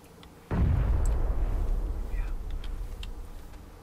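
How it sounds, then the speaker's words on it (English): Grenade blast in the battle royale shooter PUBG: a single sudden, loud explosion with a deep boom that rolls on and slowly decays, with faint clicks and a brief tone in the tail, no talk over it. "They're just nading them."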